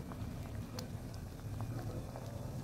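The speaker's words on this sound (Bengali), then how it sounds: "এবার একটু ফুটিয়ে নামিয়ে নেব।" A pot of matar dal shukto bubbles at a steady simmer, giving a soft, continuous low burble with faint pops throughout.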